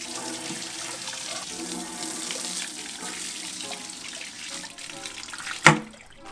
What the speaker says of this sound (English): let's go ahead and shoot this out with a hose